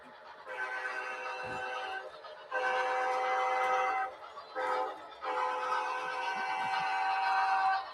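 Bachmann Class J steam locomotive running on a small loft model train layout, with an Athearn Genesis SD80MAC diesel also running, gives a steady mechanical whir with tonal hum in long bursts separated by short gaps.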